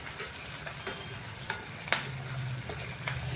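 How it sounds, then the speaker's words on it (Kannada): Onions frying in hot oil in a pan for an Indian rice dish, with a steady close sizzle and a few soft clicks and scrapes of stirring, no voices. "ಈರುಳ್ಳಿ ಚೆನ್ನಾಗಿ ಎಣ್ಣೆಲಿ ಫ್ರೈ ಆಗಬೇಕು"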